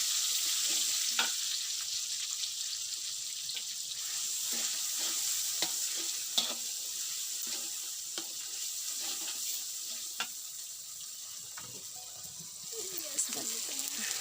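Spice paste frying in a pan for a village-style jackfruit dish, a steady sizzle broken by repeated scraping stirs and clinks of the utensil, moderately close.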